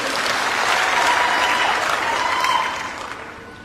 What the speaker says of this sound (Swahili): Makofi kwa waziri mkuu.